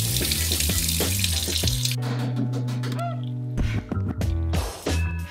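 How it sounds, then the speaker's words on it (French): A cold tap runs steadily while an egg is rinsed under the water, splashing loudly at first and then breaking into uneven gushes and drips as the egg is turned. "Je vais passer mon œuf sous l'eau froide."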